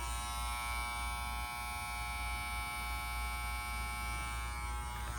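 A GAMMA Shorty hair clipper runs with a steady, close electric buzz and hum, unbroken throughout, ending in a brief click.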